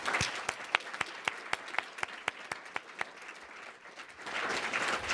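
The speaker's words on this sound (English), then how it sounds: "let's give them a final round of applause and thanks." An audience at a luncheon event gives a round of applause: a few sharp, distinct claps stand out over a softer bed of clapping that dips, then swells again near the end.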